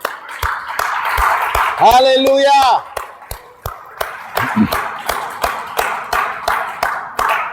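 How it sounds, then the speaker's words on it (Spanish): A church congregation applauds during a worship service, producing a steady run of sharp, closely spaced claps. One voice shouts out briefly partway through, and the clapping carries on after it. "Les invito a darle un fuerte aplauso al Señor"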